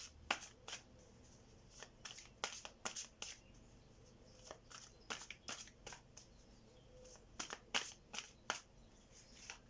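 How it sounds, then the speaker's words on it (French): Tarot cards shuffled by hand, a run of crisp riffling bursts and snaps in uneven clusters, close and fairly quiet with no voice. "on va aller tirer une petite carte pour vous, pour aujourd'hui"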